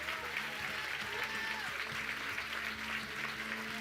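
A church congregation applauds at a testimony service, steady broadband clapping filling the whole stretch at moderate level, with a low sustained tone of music or organ humming underneath.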